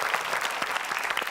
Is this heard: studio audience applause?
yes